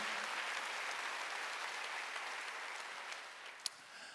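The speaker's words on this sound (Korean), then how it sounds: "박수하고 있어요" A congregation claps during a Korean church Wednesday worship service, a soft, continuous wash of applause heard from a distance that fades slightly, with one sharp clap near the end.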